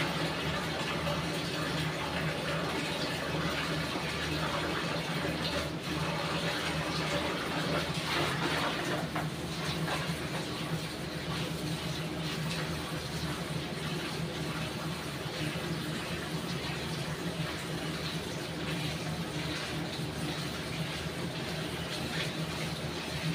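Fish being washed under running water in a home kitchen basket, a steady continuous splash and gush of flowing water close by, filling the whole stretch without a break.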